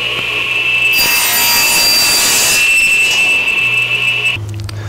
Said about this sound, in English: We'll cut off the excess piece of plywood here